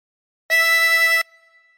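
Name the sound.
chromatic harmonica note, breathing in through hole 6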